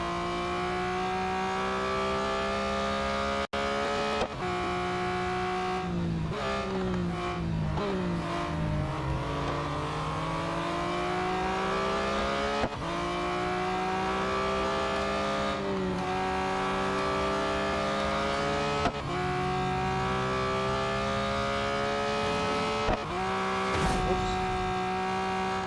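Race car engine of a Porsche 911 GT3 in the Real Racing 3 video game, a steady loud drone with rising and falling pitch sweeps through gear changes, continuous for the whole stretch.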